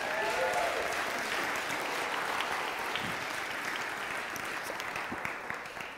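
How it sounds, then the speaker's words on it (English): An audience gives a warm round of applause for a group of kids at a stage event, a broad wash of clapping that holds steady and gradually thins toward the end. "let's get another round of applause for those kids."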